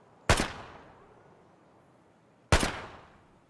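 Two loud, sharp gunshots with ringing decay, spaced about two seconds apart, from gunfire in the shooter game Escape From Tarkov.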